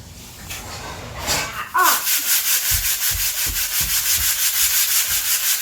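Wood paneling is sanded by hand with 150 grit sandpaper in steady rhythmic back-and-forth strokes, close and loud, with brief talk early on.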